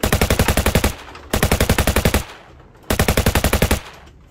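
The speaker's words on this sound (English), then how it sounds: "I can now show you the Nerf gun that I picked up and sold over the weekend" Motorized bursts from a Nerf Havoc Fire EBF-25 belt-fed blaster, three rapid-fire strings of evenly spaced clattering shots, each lasting about a second with short pauses between, loud and close with no talking.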